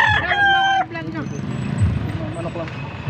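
A rooster crows loudly and close by, one drawn-out call lasting under a second, followed by a few clucks and background murmur at a Philippine poultry market in Bocaue, Pampanga.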